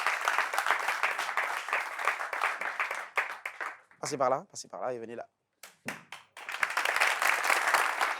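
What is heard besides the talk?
audience applause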